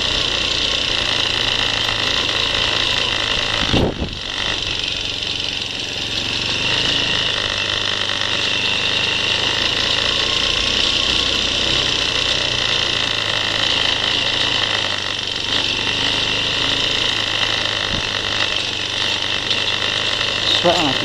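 Off-road vehicle engine pulling steadily in second gear along a green lane, a continuous loud drone with a brief knock near four seconds, and voices talking over it.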